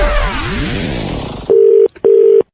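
A telephone call being placed: a sweeping electronic chime gives way to a loud, steady dial tone that sounds in two long bursts separated by a short gap, with no talking.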